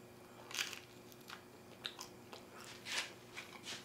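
Biting and chewing pizza crust up close, with a few quiet crunchy bites followed by soft, irregular chewing sounds.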